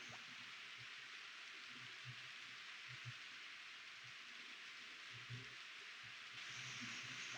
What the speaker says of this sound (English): I think I definitely hear rain